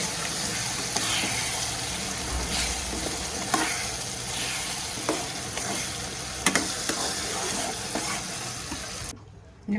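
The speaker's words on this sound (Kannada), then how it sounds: "ಇದು ತುಂಬ ಸಿಡಿಯುತ್ತೆ, ಸಿಮ್ಮಲ್ಲಿ ಇಟ್ಕೊಂಡು ನಿಧಾನಕ್ಕೆ ಫ್ರೈ ಮಾಡ್ಕೊಬೇಕು" Ground tamarind masala paste fries in a pan on low heat, giving a continuous close sizzle broken by scattered sharp pops and sputters, with occasional stirring scrapes and no talking.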